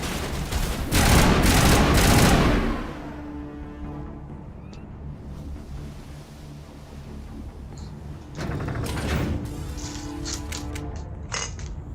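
Bursts of gunfire in the sci-fi video game Mass Effect during an assault on Virmire: a loud two-second volley up front, a quieter rumbling lull, then another sharper string of shots near the end.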